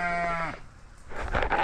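A sheep bleats once, a loud wavering cry that breaks off halfway, followed by a short stretch of noisy rustling.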